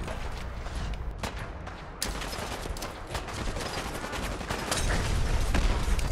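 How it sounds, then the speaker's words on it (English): A grenade attack in the video game Fallout 4 during heavy combat, with dense rapid-fire blasts and crackling explosions forming a continuous loud barrage and a sharp burst partway through. "This is around the time when I use this grenade."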